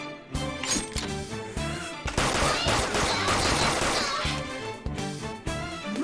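Video game gunfire in WakeWilder, rapid bursts of shots and crashing impacts in dense, loud volleys with brief pauses between.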